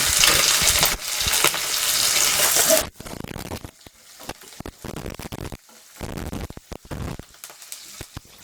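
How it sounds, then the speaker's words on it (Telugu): Curry leaves hit hot oil in a pan and sizzle loudly for about three seconds, then the frying fades into quieter, intermittent crackling and stirring. "కొంచెం కరివేపాకు రెండు రమ్మల కరివేపాకు వేస్తాను"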